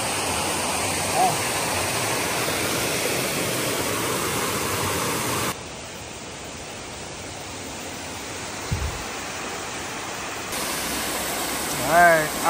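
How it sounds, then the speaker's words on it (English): Beaver Brook Falls waterfall on the Appalachian Trail in autumn, a loud steady broadband roar of rushing water that continues unbroken, with a brief bump near the end. "out here at Beaver Brook Falls"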